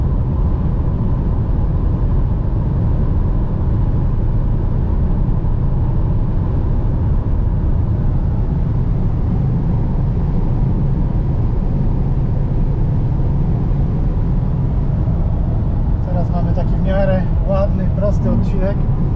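An Audi A6 C7 2.0 TDI cruises at its top speed with a loud, constant roar of wind, tyres and engine that fills the whole stretch. A voice speaks briefly over it near the end.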